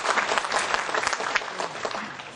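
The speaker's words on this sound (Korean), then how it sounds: "박수 한 번 더 보내주시죠" An audience claps steadily and warmly at a book launch, dense applause from a full room that holds loud and even for a couple of seconds before starting to thin.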